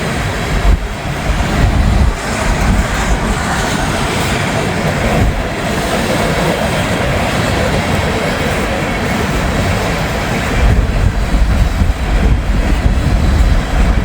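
A train moves along rails in Northern Kentucky, a loud, close, continuous rumble of wheels and cars that swells slightly near the end.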